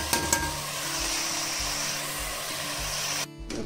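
Onions frying in a pan for mutton curry, a steady close sizzle with a low hum and occasional stirring, no talk.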